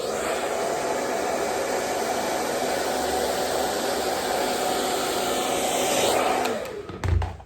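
A hair dryer blows continuously on short curly hair wrapped over a brush, a steady close whooshing roar that cuts off near the end, followed by a brief bump.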